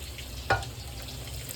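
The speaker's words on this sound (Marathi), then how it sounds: "आता फोडणीचा आवाज आला पाहिजे ना" Spice tempering (phodni) with chilli, turmeric and garlic frying in hot oil in a pressure cooker gives a faint steady sizzle, with one sharp crackling pop partway through.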